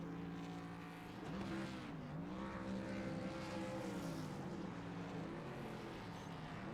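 Racing trucks in a truck championship do burnouts, engines roaring with rising and falling revs and a hint of tire squeal, loud and continuous throughout.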